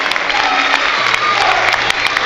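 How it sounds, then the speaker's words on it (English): Woking football players and a small group of travelling fans applaud after a National League match away at Gateshead, a steady loud patter of clapping and crowd noise with a few sharp claps standing out, a commentator talking over it. "Just looking at some of the Woking players clapping towards the small number of fans who have come up."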